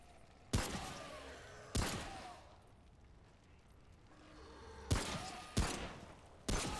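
Five loud, sharp gunshots in Remnant: From the Ashes, spaced irregularly over a few seconds, each with a short echoing tail against a quiet, dark game ambience.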